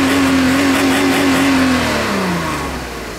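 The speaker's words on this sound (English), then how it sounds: "that's what the Lorenzer rear can sounds like on a 500E." A 1992 Mercedes W124 500E with a Lorenzer rear exhaust can holds a loud, steady rev near 6,000 RPM, then the engine note falls away as it drops back toward idle.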